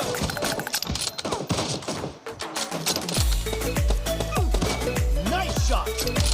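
Rifle gunfire in the shooter game PUBG, a rapid series of heavy booming shots with deep thumping tails, loud and close, mixed with game sound and talk.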